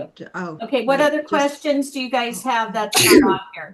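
One short, sharp sneeze breaks into a conversation at a workshop in Dubrovnik, Croatia, with people speaking before and after it.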